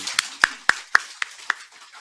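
A church congregation applauding during a harvest thanksgiving service, with about six distinct, evenly spaced claps ringing sharply and close before trailing off.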